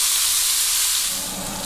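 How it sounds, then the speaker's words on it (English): Onion, garlic and rosemary sautéing in a hot pan, a continuous soft hiss and sizzle that eases slightly toward the end, with no voices over it. "garlic, and our rosemary. I'm going to sauté these for about 2 minutes."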